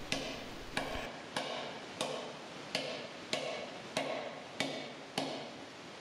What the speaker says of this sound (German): Deshalb werden die Treibschläge immer genau entlang der Knicke angesetzt und diese zuerst glattgetrieben.